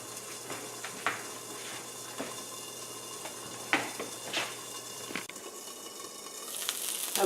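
Ham frying in a pan alongside melting mozzarella, a quiet steady sizzle with faint pops and occasional soft clinks of a utensil, close and without talking.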